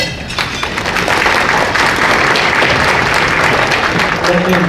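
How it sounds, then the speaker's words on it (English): Applause for the band at a Chamber of Commerce awards banquet, a dense, loud, sustained clapping from a full room that holds steady throughout. "Let's give them a round of applause"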